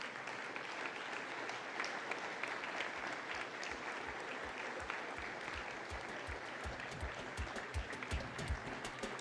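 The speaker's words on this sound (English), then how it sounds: "Friends, stand with a standing ovation and round of applause." A dinner-hall audience at a manufacturers' association awards dinner in Trinidad and Tobago gives a standing ovation, dense steady clapping from many hands filling the room for several seconds at moderate distance.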